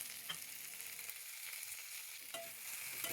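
Sliced onion, tomato and green chili fry in a pan while being stirred, a soft continuous sizzle broken by a couple of light spatula scrapes, quiet and close with no talking.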